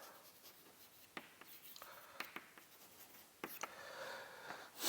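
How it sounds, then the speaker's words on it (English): Faint scratching strokes of writing on a board during a mathematics lecture come in short, irregular bursts against a quiet room. "Let me just write it somewhere."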